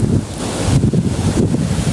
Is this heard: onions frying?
no